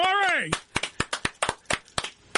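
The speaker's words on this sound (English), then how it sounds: "Round of applause." Applause from a small group on a radio show greeting a guest: a rising voice is followed by about a dozen sharp, spaced claps that sound close and fairly loud.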